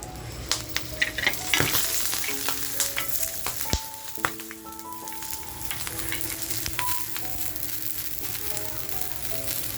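Chilies sizzle in a little oil in a hot pan for chicken thecha, a steady crackling fry punctuated by metallic clinks and scrapes of a utensil against the pan, with no talking.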